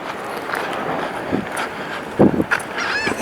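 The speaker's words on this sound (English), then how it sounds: "There are hundreds of geese, maybe even thousands out at Calvary." Geese honk repeatedly over a busy outdoor background, with a louder burst of calls near the end.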